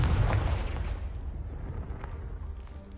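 Confringo blasting spell explosion in the video game Hogwarts Legacy: one loud, close boom at the start that rolls into a long, fading rumble, with no talking.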